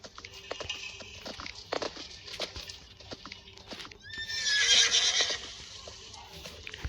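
A horse in the Roblox video game clops along with a series of hoof beats, then lets out a loud, high whinny near the middle, with no talk over it.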